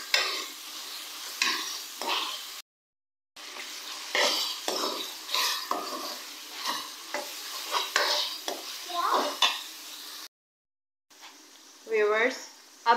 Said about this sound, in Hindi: अब मैं इसमें ऐड करूँगी 1 कप दही का। मिक्स करेंगे अच्छी तरह से।